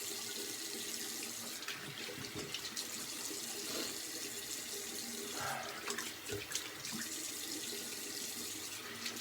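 Cold water runs steadily from a tap into a sink, a continuous splashing rush with occasional gurgles as something is rinsed under it after a shave.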